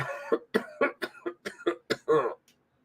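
A person coughs in a rapid series of about nine harsh, close-up bursts, each short and sharp with brief pauses, ending in a slightly longer cough and then silence.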